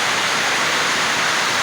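Water leaking from a newly built roof and pouring down everywhere, a loud, steady broadband rush like a downpour with no break.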